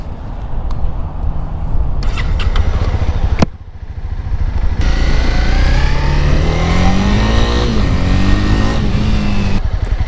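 Honda CB300R motorcycle engine idling, then revving and pulling away, its pitch rising through several gears with a brief drop at each shift, loud and close throughout.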